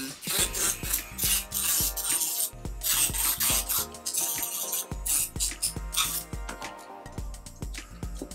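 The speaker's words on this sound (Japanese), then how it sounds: "僕はね、リューターにダイヤモンドビットをつけて、このまんま普通に切っていこうと思います。" Rotary tool fitted with a diamond bit cutting a carbon plate for a Mini 4WD car, heard up close as continuous abrasive grinding and rasping with scraping and intermittent clinking, steady throughout without talk.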